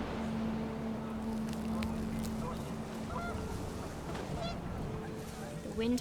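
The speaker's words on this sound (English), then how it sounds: "The wind picked up and panicked geese appeared and quickly went." Panicked geese honk in the video game What Remains of Edith Finch, several calls rising over a windy outdoor ambience alongside a long steady tone, moderately loud and without speech.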